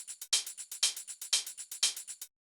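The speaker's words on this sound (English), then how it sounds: "this little drum rack, which has a bunch of percussion in it" Percussion from a drum rack with tambourine and hi-hats plays a quick, even pattern of bright, crisp hits with louder accents every few beats, fairly quiet and with no voices.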